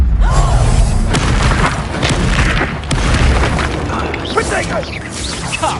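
Confringo spell blasts in the Hogwarts Legacy video game land as repeated heavy booms and crackling bursts, loud and close, with voices shouting amid the chaotic combat noise.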